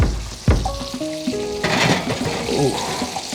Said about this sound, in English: Chicken good and frying.